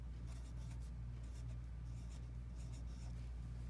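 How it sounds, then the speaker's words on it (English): Pencil writing the word zigzag on a paper worksheet, a soft continuous scratching with short strokes over a low steady hum, quiet and close. "I'm going to write zigzag."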